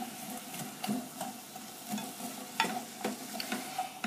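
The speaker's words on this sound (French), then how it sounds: "j'y incorpore les oignons émincés. Je mélange à l'aide d'une cuillère en bois." Sliced onions are stirred in a pan with a wooden spoon for an onion chutney, with soft scraping strokes recurring every half second or so over a faint, steady sizzle.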